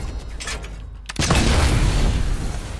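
A Fortnite cannon fires with a sudden deep boom after a brief quieter lead-in, followed by a loud sustained rumbling roar.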